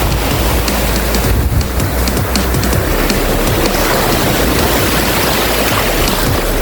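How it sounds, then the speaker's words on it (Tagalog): Big ocean waves surge and crash at a beach on Lantau at night, a steady loud roar of surf with no talking, the wash swelling slightly near the start. "Ayan ang laki ng alon, no?"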